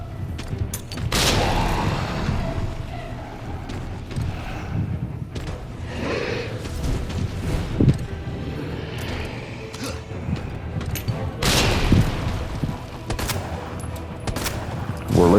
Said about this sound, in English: Use the grenades to blow up the rocks.